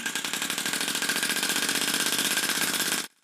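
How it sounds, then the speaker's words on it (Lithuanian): A homemade air engine runs steadily and loudly with a fast, even mechanical chatter for about three seconds, then cuts off abruptly into silence. "Variklis vis dar veikia"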